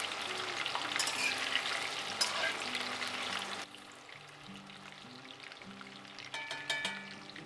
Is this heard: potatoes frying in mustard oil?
yes